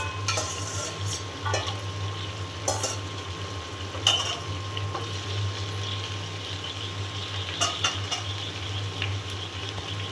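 Chopped okra frying in oil with onion and green chillies in a pan, a low steady sizzle with a constant hum beneath and a few sharp utensil clinks and scrapes, no speech.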